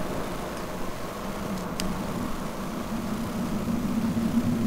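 PC-9 turboprop engine spooling up during a start in Flight Simulator X, a steady low droning hum that slowly builds with faint whine, no talk.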